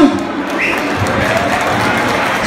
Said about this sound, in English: let's give a round of applause for both fighters